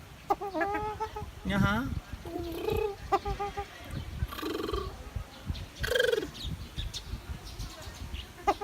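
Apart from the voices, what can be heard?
peacock calling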